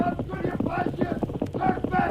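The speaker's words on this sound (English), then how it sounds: "Look at that white horse stretch out." A white horse gallops across the ground in an old Western radio drama, hooves clip-clopping in a steady, close rhythm throughout, with voices and score-like sound around it.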